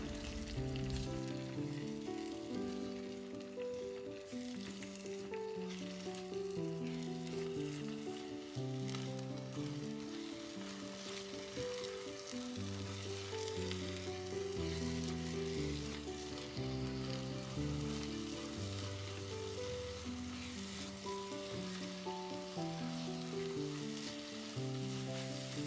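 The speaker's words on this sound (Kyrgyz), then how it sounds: "жумуртка менен пиязды дагы 1 мүнөттөй кууруп алабыз" Eggs and onions sizzle steadily in a frying pan, occasionally stirred, with continuous close frying crackle and faint background music, no talk.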